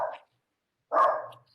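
A dog barks twice nearby, a short bark followed after a pause by a longer, louder one, with no talk around it.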